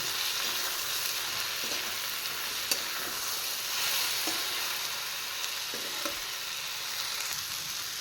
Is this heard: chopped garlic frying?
yes